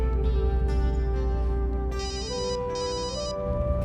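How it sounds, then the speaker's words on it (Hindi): A phone ringtone plays loudly and alone, a repeating electronic melody of shifting tones that steps through several phrases without pause. "ओहो, किसका फोन आ गया?"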